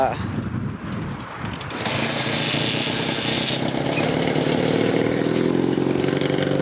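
A Honda CM400T motorcycle engine cranks briefly, then catches and settles into a steady, loud idle that continues to the end.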